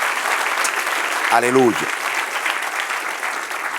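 A church congregation applauds during a Spanish-language service, a sustained, crowded patter of clapping; partway through, a single voice briefly calls out over the applause.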